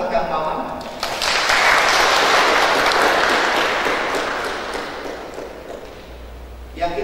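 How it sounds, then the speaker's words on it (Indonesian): A congregation applauds during a Sunday church service marking a parish anniversary, a dense, even wash of clapping that swells after a second, holds for several seconds, then gradually tapers off. "Boleh tepuk tangan buat Kang Maman"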